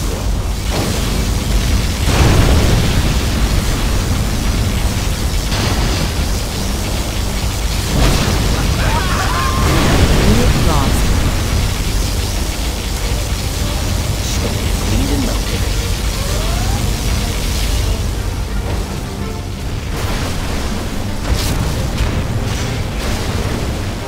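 Explosions and booming blasts from a skirmish in the game C&C Generals Zero Hour, dense and loud across the whole stretch, with game voice announcements mixed in.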